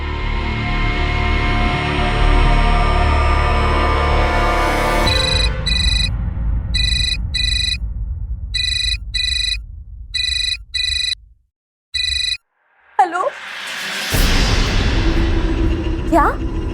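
A telephone ringtone rings loudly in repeated short electronic bursts with gaps between them, following a stretch of loud talk and other sounds.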